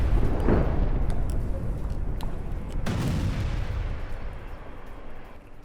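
Heavy blast booms from an attack near Beirut airport, a deep rumbling explosion followed by a second sharp boom midway and rolling echoes that slowly fade.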